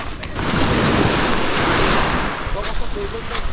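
A boat heading out to sea over choppy water, with a steady rush of waves and wind noise, then splashing slaps against the hull.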